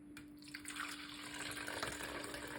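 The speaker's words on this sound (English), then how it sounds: "Gonna put a little bit of water" Water trickles and splashes softly into a blender, a brief, faint, steady pour close by with no talk.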